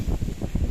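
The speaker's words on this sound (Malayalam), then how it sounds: "നല്ല കാറ്റ്." Strong wind gusting at Banasura dam during rain, a rough low buffeting rush with uneven pulses across a brief moment, no voices.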